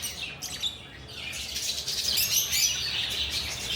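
Caged birds in a second-floor pet shop, including cockatiels, lovebirds, budgerigars, finches, conures, Java sparrows and doves, chirping in a dense, continuous high twittering chorus with occasional squawks, fairly loud and close, with no voices.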